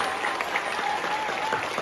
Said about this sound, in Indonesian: Tepuk tangan untuk SMP Negeri 7 Cimahi.